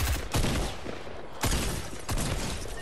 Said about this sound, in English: Just missed like all of those shots.